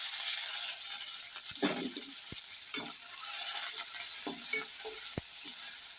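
Mustard-seed and curry-leaf tempering for a green chilli and raw tamarind chutney sizzles steadily in a pan, with a few clinks and scrapes of stirring across the span and no talk.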